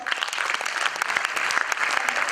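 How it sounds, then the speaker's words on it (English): Brief, dense audience applause at a national management seminar, continuous clapping filling the whole moment at close range. "Round of applause for."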